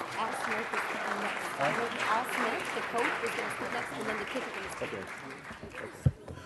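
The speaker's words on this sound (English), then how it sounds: "let's give them another round of applause" Applause for a team at a city council meeting: steady, dense clapping from a crowd that carries through the whole stretch, with a sharp single bang near the end.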